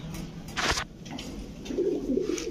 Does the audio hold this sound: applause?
no